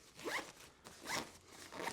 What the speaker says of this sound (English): Now I'll zip up this main closure